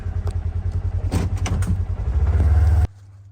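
A logging skidder engine running in post-oak woods, a steady low diesel drone that grows louder and heavier toward the end, with a few knocks and rattles, before it cuts off sharply.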